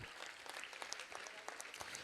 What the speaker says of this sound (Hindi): इनके लिए जोरदार तालियां बजाइए।